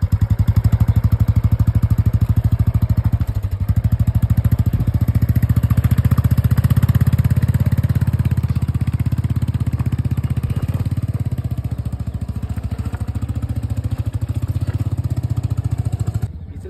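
A motorcycle engine labours up a steep slope on a ride near Damdama Lake, its loud, continuous throb holding steady and close for the whole stretch, with a brief dip partway through and a drop at the very end.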